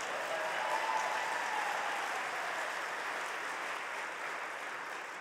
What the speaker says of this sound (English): I'll pause for you to clap for him.